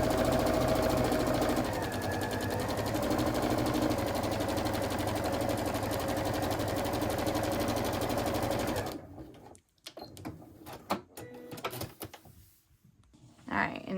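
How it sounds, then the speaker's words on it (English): A sewing machine stitches quilt fabric strips in a fast, steady, close run for several seconds, then stops, leaving scattered light handling clatter. "we're just gonna keep sewing"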